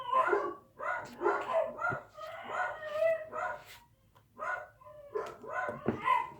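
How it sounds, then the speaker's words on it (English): Several dogs bark excitedly near a rural property, a rapid, overlapping series of loud barks with brief pauses, close to the listener. "my dogs must have seen a squirrel."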